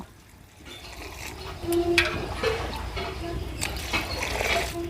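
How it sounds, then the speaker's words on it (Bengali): Banana flower (mocha) being rinsed under running water, a steady close splashing and trickling stream that continues throughout, with occasional clinks. "এবার আমি আর একবার ধুয়ে নেব"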